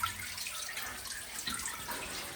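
Water trickles and drips steadily inside an old mine dating to 1856, a continuous, moderately faint splashing flow with scattered bright drops in an echoing space.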